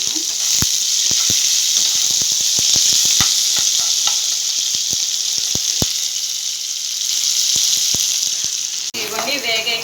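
Onions and green chillies frying in a pan give a loud, continuous sizzle, with sharp clicks and pops scattered through it and a brief scraping stir near the end.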